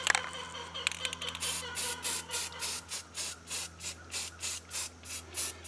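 Aerosol spray paint hissing in a dozen short, evenly spaced bursts, laying camouflage onto a Jimmy, close and fairly loud with brief pauses between each pass.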